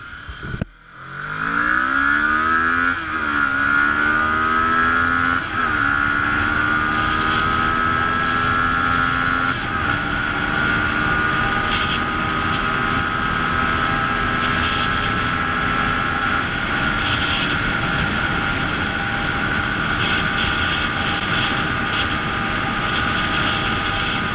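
A Kawasaki ER6n motorcycle with a liquid-cooled engine accelerates hard on an open road, the loud engine note rising steadily through the gears, with brief dips at each shift before settling into a sustained high drone.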